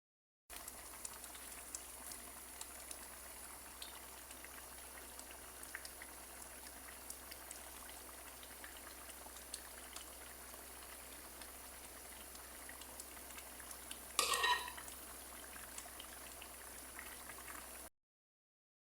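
Phalsa syrup simmers in a pot with a soft, steady bubbling hiss, faint and continuous, and a brief louder stir or splash near the end.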